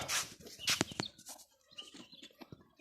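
Farm chickens cluck and squawk in short, irregular bursts close by in an evening pen setting, with quieter gaps between calls.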